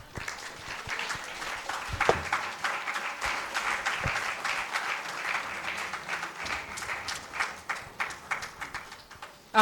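A seminar audience gives a dense burst of applause that stays steady for nearly ten seconds at moderate loudness, with scattered individual claps and no talking.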